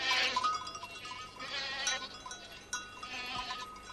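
A newborn goat kid bleats in a few short, high, wavering cries spaced over a few seconds, fairly close and clear with no talking.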